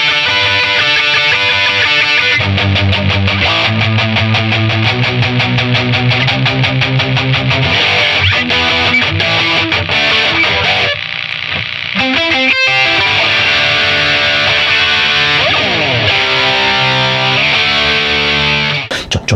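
A Stratocaster electric guitar plays a song through heavy distortion, loud and continuous, with dense strummed chords and riffs, a brief dip near the middle, and no speech.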